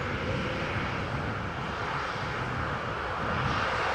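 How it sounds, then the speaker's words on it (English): A 747-800 airliner rolling past at Amsterdam Schiphol Airport after landing from Bergen, giving a steady, fairly loud engine rush and rumble that rises slightly toward the end, with no talking. "we have a 747-800 passing by that has just landed from Bergen"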